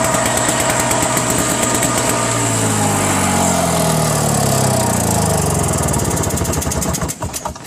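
A small lawn tractor engine runs steadily after a cold start, a loud, close, buzzing high-pitched drone that holds even throughout before a brief stutter near the end, with no voices.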